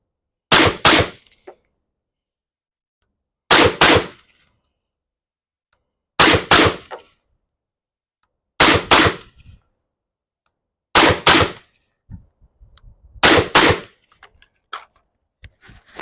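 Six suppressed gunshots come in evenly spaced pairs of sharp, muffled cracks from a gun fitted with a suppressor, each followed by brief silence, with faint handling noise near the end.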